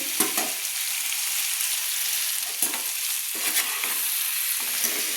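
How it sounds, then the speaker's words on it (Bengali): Papaya and potato pieces are stir-fried with spices in a pan: a steady, close sizzle with repeated scraping strokes of a spatula at irregular intervals, and no voices. "তো এবার আমি মশলার সঙ্গে পেঁপে আর আলুটাকে সুন্দর করে কষিয়ে নেব।"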